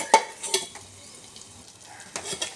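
A spoon stirs brinjal fry with coriander powder in a pan: a few sharp clinks and scrapes against the metal over a faint sizzle, then quieter.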